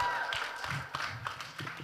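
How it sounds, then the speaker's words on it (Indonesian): A church service audience claps in a brief, dense patter that runs the whole time, heard from inside the room, with faint voices mixed in. "tepuk tangan sekali lagi dong"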